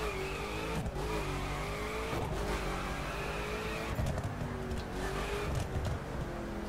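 A Koenigsegg Agera R drifting in the video game The Crew, its engine droning steadily with shifting pitch while tires squeal and skid in drawn-out, continuous passes.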